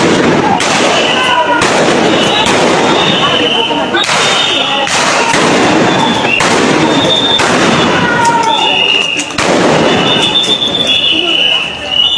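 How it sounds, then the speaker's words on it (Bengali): Gunfire during a street clash at Bandar Bazar in Sylhet: sharp loud bangs crack out repeatedly at irregular intervals over a constant roar of crowd noise and shouting voices. "ফায়ার চলছে"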